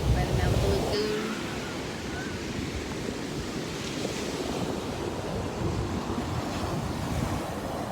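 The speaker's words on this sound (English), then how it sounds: "here I am out in Malibu watching the surfers by the Malibu Lagoon" Ocean surf rolling onto the beach by Malibu Lagoon, a steady broadband wash with wind buffeting the microphone, louder in the first second and then a constant roar with no talk.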